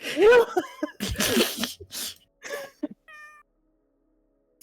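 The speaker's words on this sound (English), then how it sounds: "Tiny cat" A small cat meows several times up close, with short rising and falling cries spaced by pauses, followed by a brief chirpy tone and then silence.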